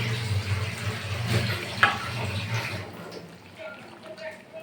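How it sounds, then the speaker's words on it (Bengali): Hot water poured into a pot of meat curry with browned potatoes, a steady watery rush and splash running for about three seconds, then fading into a quieter kitchen background. "এপাশে জল গরম হয়ে গেছে প্রায় ফুদে ফুদে ভাব জলটা দিয়ে দেবো"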